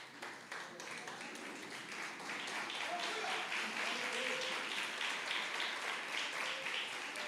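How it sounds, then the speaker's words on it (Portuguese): A church congregation applauds together, steady and sustained broadband clapping from many hands filling the room, building slightly louder after the first second and holding without pause. "tome o seu assento aplaudindo ao Senhor."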